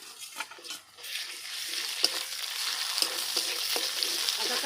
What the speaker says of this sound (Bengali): সব মশলার সঙ্গে আমি কষিয়ে নেব বন্ধুরা মশলাটা কষিয়ে নিচ্ছে